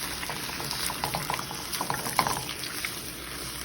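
A tofu and radish dish bubbling on medium heat, a steady close simmer with scattered soft pops and liquid burbles, no voices.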